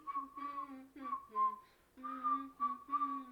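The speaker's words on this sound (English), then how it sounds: "What are you whistling" A man whistles a melody in short, clear phrases with brief pauses between notes, close and fairly quiet, with no other voices during the tune.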